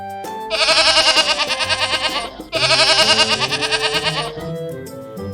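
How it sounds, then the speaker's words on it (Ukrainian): Goat bleating loudly nearby in two long wavering calls separated by a short pause, with faint background sounds. "Так, це коза, це травоїдна тварина."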